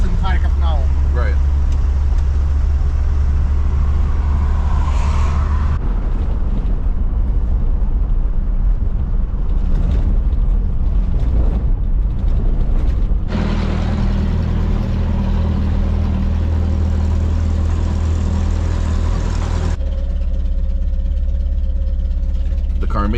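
An old car engine runs roughly on the road in wartime Ukraine, a loud continuous low drone with shifting rattles and changes in tone, while people talk over it.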